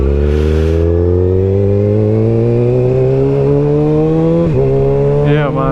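A Kawasaki ZX7 motorcycle engine runs loud and close, its tone rising steadily as the revs climb, then dipping briefly near the end with a short sharp rev.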